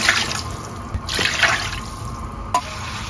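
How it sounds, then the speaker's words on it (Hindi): Water poured into cooking masala for Bannu-style beef pulao: a thin, splashing trickle with a few drips, close by, fairly quiet and steady with no talk. "अभी इस स्टेज पे मैं इसमें पानी डालूंगा,"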